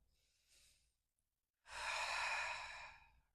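Deep breathing in a slow yoga flow: a faint short breath, a pause, then a long, full inhale or sigh close to the microphone, with no talk.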